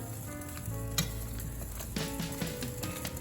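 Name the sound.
cabbage sizzling as it cooks down in a pot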